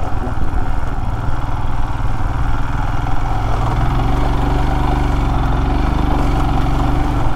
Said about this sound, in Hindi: यहाँ पे एटलीस्ट बाइक आराम से चल तो रही है।